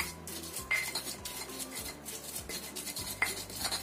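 A pestle grinds spices, candlenuts, shrimp and palm sugar in a mortar for Indonesian fried noodles, with repeated scraping and knocking strokes in an uneven rhythm, close and fairly loud, with no talk.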